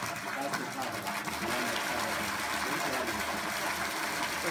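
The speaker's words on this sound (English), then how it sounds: "now we hear the water coming in completely" Water gushing steadily into a tank or container at a home in Africa, a dense continuous rush with a faint mechanical hum beneath it, close and fairly loud throughout.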